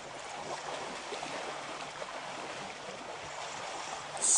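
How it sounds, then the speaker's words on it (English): Buffaloes wade through water on an evening safari drive, making a steady, soft swishing and sloshing wash that runs continuously, with a brief brighter splash at the very end. "You hear the sound of these buffaloes swishing through the water"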